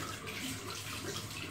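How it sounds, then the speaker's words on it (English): Shower water running cold before a Norwegian Forest Cat's bath, a steady close hiss of spray that stays even and moderately loud for the whole short stretch. "Now the shower is positioned. I will just run the water because it's very cold"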